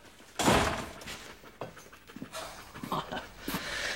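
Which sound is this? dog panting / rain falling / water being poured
dog panting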